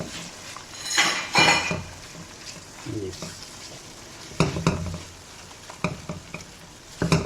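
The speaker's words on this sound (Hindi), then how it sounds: "अंडे को अच्छा सा मिक्स करेंगे" Beaten eggs stirred into onions frying in a pan, with a sizzling bed under sharp spatula scrapes and clinks against the pan, close up, busiest at the start and again near the end, no talk.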